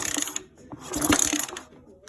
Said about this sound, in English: So there's the head bolts, little head nuts, tightened down to 18 foot-pounds or 25 newton meters